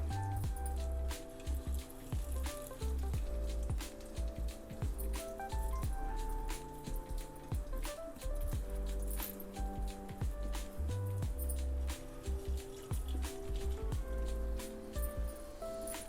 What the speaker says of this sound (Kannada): ಸೊ ಇದು ಒಂದೊಂದೇ ಇವಾಗ ಶಾಲೋ ಫ್ರೈ ಮಾಡೋಕ್ಕೆ ನಾನು ಹಾಕ್ತಾಯಿದ್ದೀನಿ